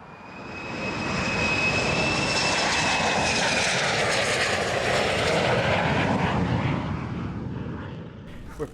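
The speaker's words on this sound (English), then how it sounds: "because of the F-35 planes, which have made life sort of awful to live here" F-35 fighter jets roar over a town, a loud rushing thunder that swells over a couple of seconds, holds at full intensity, and slowly fades as the aircraft pass.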